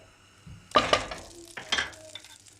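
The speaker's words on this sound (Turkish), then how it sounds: "Şimdi tavam ısındı. Üzerine bir tatlı kaşığı tereyağı koydum." Butter melting in a hot frying pan for a potato and egg toast, giving a short close sizzle with a couple of scraping stirs and clinks of the pan.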